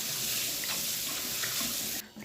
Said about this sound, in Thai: ขอล้างถั่วแป๊บนึงเสร็จเนาะ